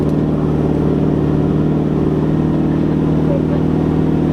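Low, steady drone of a 4WD engine held at constant revs in first low gear, engine braking downhill without brakes, rumbling evenly throughout without acceleration.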